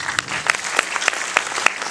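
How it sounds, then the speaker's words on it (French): A film festival closing ceremony audience breaks into loud applause, a thick wash of clapping with regular rhythmic accents rising through it. "Donc merci d'applaudir Théo,"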